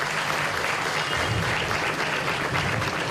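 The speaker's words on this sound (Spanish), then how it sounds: "Muchísimas gracias y un fuerte aplauso." Loud, sustained applause from a crowd, dense and even from start to finish with no pauses.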